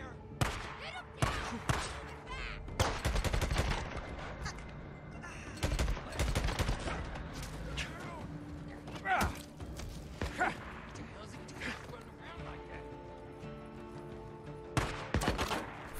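Repeated bursts of gunfire from Days Gone, the fight against marauders, crackle in clusters across the scene, some sharp single shots and some rapid volleys, over game ambience with a voice talking in between.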